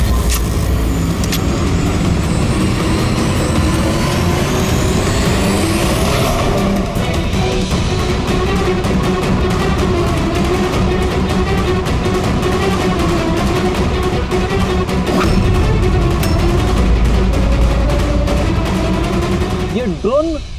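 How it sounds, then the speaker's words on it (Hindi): Drones flying overhead during a crime-drama action scene give a loud, steady mechanical whir, joined by rapid gunfire-like bursts and dramatic background sound. "ये ड्रोन जमीन पे लैंड क्यों नहीं हो रहे?"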